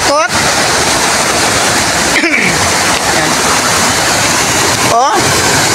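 Floodwater rushing down from a rain-soaked mountain, a loud, constant roar of falling water with strong force, with brief whooshing sweeps breaking through.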